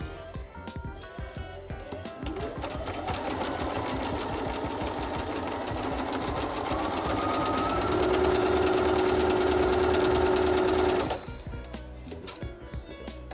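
A sewing machine spins up, runs with a fast rattling whir that rises in speed and pitch, holds briefly at full speed, then stops abruptly. The sound is close and moderately loud, with no voices.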